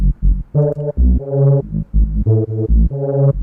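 A deep, buzzy synthesized speed garage bass riff from Serum plays in short rhythmic stabs and sustained notes, loud and up front, with no voices.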